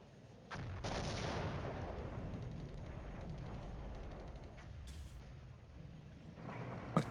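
Artillery fire rumbles in a Cold War Flashpoint Campaigns battle: a sudden booming onset gives way to a sustained, distant-sounding roar of shelling, ending with a sharp crack.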